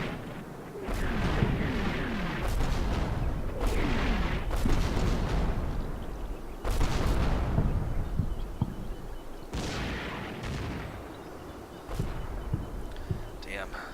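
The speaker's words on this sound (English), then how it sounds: "I need some good mortars here now. Heavy barrage." A heavy mortar barrage in a World War II tactical video game pounds continuously, with repeated deep booms and rumbling explosions overlapping across the whole stretch. Speech runs underneath.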